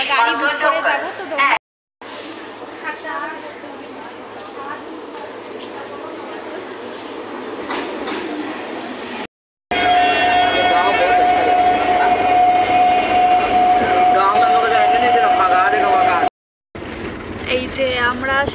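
A local train in Kolkata bound for Sealdah rumbling steadily along the tracks, a loud continuous roar with a sustained whistle-like tone midway and people talking over it.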